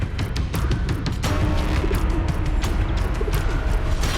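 A pigeon coos inside the Amarnath cave, soft repeated calls sitting under a dense, echoing wash of ambient noise with scattered clicks.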